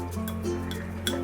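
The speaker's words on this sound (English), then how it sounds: "To that, we're going to add some ice cubes, so about 2 of them." Two ice cubes are dropped into a glass of water while making protein chaas with Greek yogurt, giving a few light clinks over a low steady hum, close by and without speech.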